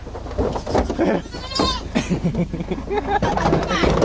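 Several goats bleat loudly and repeatedly at close range, their wavering cries overlapping with people talking nearby.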